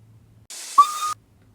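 Trackmaster Ivor toy train engine giving a single short whistle, a breathy hiss rising into a clear piping tone that holds briefly and cuts off, alone against near-silence.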